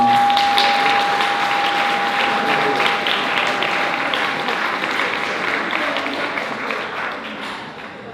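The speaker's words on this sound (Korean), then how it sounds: "큰 박수 부탁드립니다." Wedding guests in a wedding hall applaud in a sustained, dense round of clapping that gradually fades, with a steady tone ringing underneath during the first few seconds.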